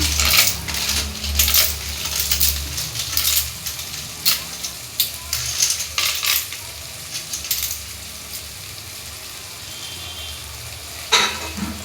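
Tomatoes frying in a pan as an ingredient is tipped in and mixed, with bright metallic clinks and scrapes of a utensil against the pan over a constant sizzle, fairly loud and close, with no talking.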